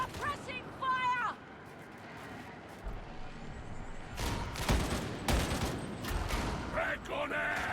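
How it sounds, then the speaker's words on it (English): Bursts of suppressing gunfire in Warhammer 40K Darktide, dense rapid shots and crackling impacts building from a quiet start into a sustained loud volley, with voices and game chatter mixed in. "Suppressing fire!"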